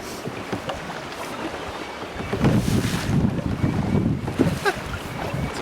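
Strong gusting wind buffets a small fishing boat out on a lake in rough weather, a steady roaring rush that swells louder partway through, with water slapping around the hull.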